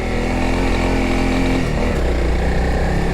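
A Honda CRF300L dual-sport motorcycle riding off-road on rutted dirt tracks, its single-cylinder engine droning loud and close at a steady throttle, with a slight shift in pitch partway through.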